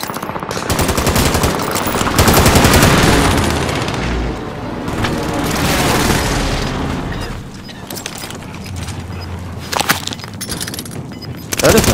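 Airstrike explosions and rapid gunfire in a multiplayer shooter game, with heavy booms and dense bursts of automatic fire, loud and continuous, fading into scattered shots.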